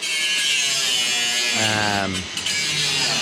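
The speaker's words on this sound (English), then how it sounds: "So he's grinding off the old hinge." An angle grinder cuts away an old hinge on a trailer with a steady, loud buzzing whine that shifts pitch partway through, close up and continuous.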